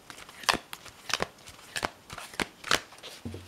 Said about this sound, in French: je vais faire un petit mélange en premier, pour voir la carte que nous allons avoir tous pour la journée